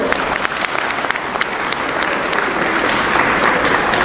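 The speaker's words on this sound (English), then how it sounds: "Let's give the caterers a round of applause." Audience applause at a Tamil Association of Queensland Diwali celebration, honoring the Indian food caterers: loud, steady clapping from a large crowd filling the whole stretch without pause.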